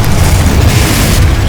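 Confringo spell blast in Hogwarts Legacy, a loud, deep booming burst with a sustained rumbling roar filling the whole moment, very close.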